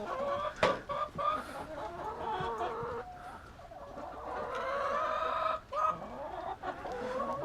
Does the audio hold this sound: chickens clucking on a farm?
yes